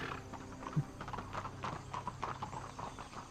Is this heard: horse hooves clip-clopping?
yes